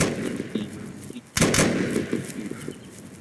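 Video game gunfire crackles in a few sharp bursts, with one loud close shot standing out against a busy in-game background of lighter pops and noise.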